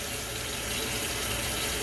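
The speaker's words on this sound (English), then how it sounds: "I wet it a little bit, warm water." Warm water runs steadily from a kitchen tap for about two seconds, a constant close hiss of flow with no talking.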